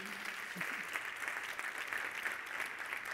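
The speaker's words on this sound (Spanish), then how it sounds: "Así que, por favor, si damos unos aplausos" Conference audience giving a steady round of applause to a panel of experts on the future of the welfare state, dense even clapping throughout, fairly loud and close.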